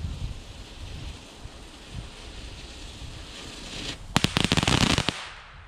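A Geysir firework fountain set off outdoors at New Year's erupts after a stretch of gusty wind noise, giving a burst of rapid loud crackling pops for about a second before fading.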